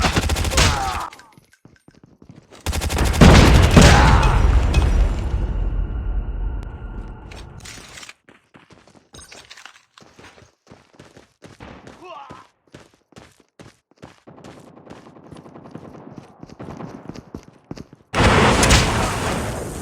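Gunfire from the mobile shooter Call of Duty Mobile comes in loud bursts of shots and booms, then a long run of rapid crackling fire and thuds that trails off before another heavy burst near the end.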